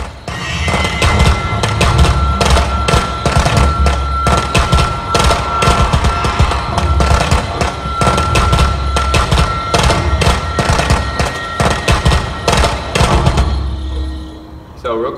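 Firecrackers pop repeatedly in the Friday the 13th video game, a loud, dense string of sharp cracks and bangs in an irregular rapid rhythm, with game sounds behind them.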